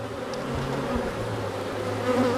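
A huge honey bee colony buzzing inside its hive, a dense, continuous, steady drone heard close up with no voices.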